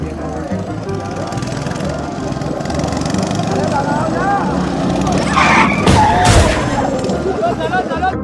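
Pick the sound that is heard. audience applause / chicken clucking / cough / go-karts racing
go-karts racing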